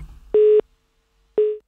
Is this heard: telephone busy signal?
yes